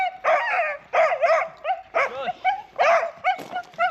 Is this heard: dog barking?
yes